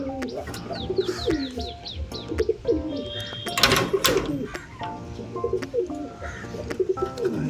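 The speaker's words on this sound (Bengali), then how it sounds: "দেখো পায়রাগুলো সব।" Pigeons coo in repeated soft, throaty phrases, several birds close by, with a brief burst of fluttering wings partway through.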